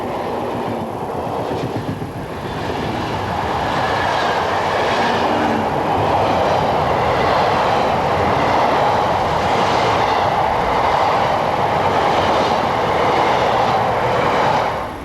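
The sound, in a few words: car-carrying train 1375 passing on the railway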